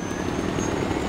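A helicopter lifts off in the video game Far Cry 4, its rotor and engine making a steady, dense whirring roar that stays loud and even through the short moment.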